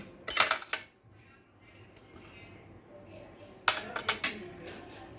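A spoon clinks and scrapes against a big bowl while suji (semolina) is stirred together with mixed vegetables, giving two short clusters of bright metallic knocks separated by a quiet pause.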